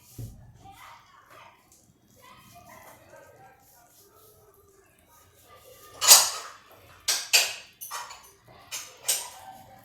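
Metal spoon clinking against a pot while hot bisi bele bhaat, a spiced Karnataka rice and lentil dish, is scooped into a bowl, several sharp clanks near the end after someone speaks.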